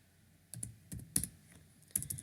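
Keys on a computer keyboard tapped in short clustered bursts while a Java command is entered, a few quick strokes separated by brief pauses, close and fairly quiet with no voices.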